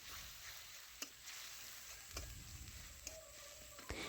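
Mustard paste with chili powder, turmeric and a little water is stirred and fried in a pan: a faint low sizzle with occasional soft clicks of the stirring utensil.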